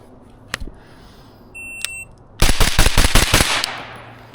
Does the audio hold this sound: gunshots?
yes